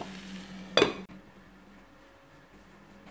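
Chicken with added water is mixed in a pan, with a short clink of a utensil against the pan over a faint sizzle, then quiet simmering.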